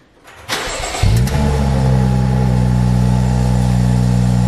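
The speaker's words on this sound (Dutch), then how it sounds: "Moet je maar eens even luisteren naar het uitlaatgeluid." A BMW E46 convertible's six-cylinder engine cranks and fires up loudly on a cold start, settling into a steady, deep rumbling idle close by.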